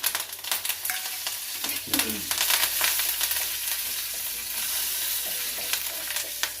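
Urad dal, mustard seeds, cumin, dried red chillies and curry leaves fry in hot oil for a mint chutney tempering, a loud continuous sizzle with crackling bursts and spoon stirring near the start.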